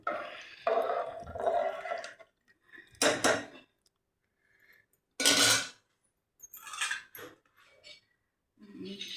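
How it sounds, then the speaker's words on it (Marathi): Soaked rice being stirred in a metal cooking pot for egg biryani, with intermittent bursts of scraping, clinking and wet shuffling separated by short pauses, close by. "परत एकदा मी असे हलवून घेते."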